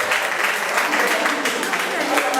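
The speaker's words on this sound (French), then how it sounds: "Applaudissez pour les artistes." An audience at a Toumboui semi-final in Paris claps for the performers, a dense, even wash of applause that stays close and steady throughout.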